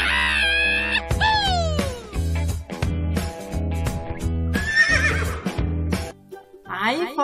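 A horse neighs loudly at the start, then whinnies again over a pulsing, rhythmic music beat.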